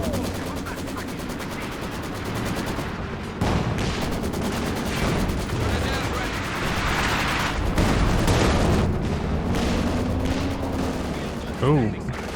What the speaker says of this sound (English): Maxim's blasting as well